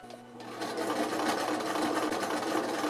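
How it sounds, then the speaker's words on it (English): A sewing machine stitches a hoodie into a crop top, running as a steady, close, continuous mechanical whirr for the whole stretch with no talking. "let's start sewing"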